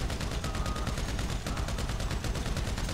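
Rapid automatic gunfire from a weapon in the video game GTA 5, a dense, loud, continuous stream of shots with no pauses.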